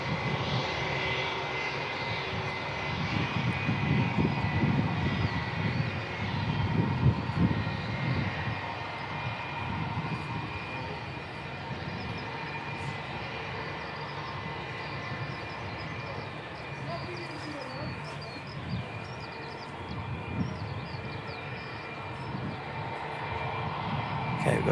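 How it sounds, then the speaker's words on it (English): A Jetstar airliner lands at Christchurch Airport using minimal reverse thrust, a steady broad engine roar rising and holding throughout, close and loud. "Another quiet arrival from Jetstar. Seem to use minimal reverse thrust when they land."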